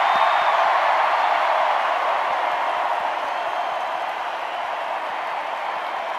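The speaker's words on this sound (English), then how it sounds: "let's give Carol a standing ovation" A huge stadium crowd of over 20,000 at the Georgia Dome gives a standing ovation, with dense, steady applause and cheering that roars throughout and fades slightly toward the end.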